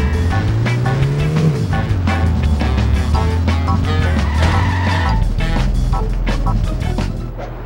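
Car engine roaring and tires skidding in The Simpsons Hit & Run video game, a continuous loud racing drive with squealing tires and a falling engine pitch near the end.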